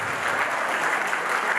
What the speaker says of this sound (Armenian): Ծափարենք մեր ծնողներին